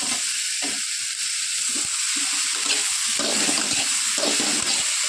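Tomatoes sauté in a pan for South Indian coconut kurma, a continuous bright sizzle with intermittent stirring scrapes and clatters, close and steady with no voices.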